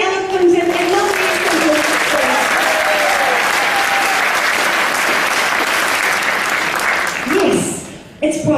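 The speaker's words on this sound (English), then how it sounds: "But give a round of applause, very eloquent and lovely." Sustained loud audience applause at a steampunk fashion show in Oamaru, steady clapping throughout with crowd noise and some voices mixed in, fading near the end.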